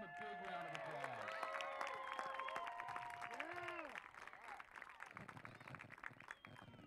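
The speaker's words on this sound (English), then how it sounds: "Give them a big round of applause." Crowd applause with cheering and whistles at a jellyfish-shell cooking demonstration, steady clapping running throughout beneath excited voices and shouts.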